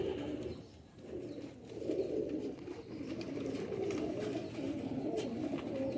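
Green-striped pigeons, including a breeding female, give repeated low, rolling coos in a steady rhythm, close by and fairly soft, with faint background rustling.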